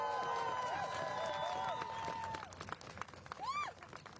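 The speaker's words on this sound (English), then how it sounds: "if we can have one last round of applause for Tasha Van Alen and Ali Najmi" Room applause at a New York City mayor's press conference, clapping heard under overlapping voices and a ringing tone that fades midway, ending in scattered claps.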